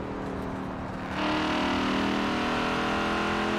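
Audi RS6 police car engine in Forza Horizon 4, a loud steady roar that swells suddenly after a second and then holds at high revs, close and alone.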